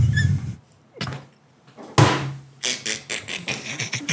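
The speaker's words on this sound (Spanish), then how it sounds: "Y esa silla sigue sonando." A wooden chair creaking and squeaking as someone shifts their weight on it, several short creaks and scrapes at close range, partly under quiet talking.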